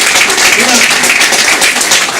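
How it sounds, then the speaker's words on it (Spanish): Church congregation claps for the social work volunteers, continuous dense applause throughout, loud and close, with speech mixed in. "Un aplauso para ellos."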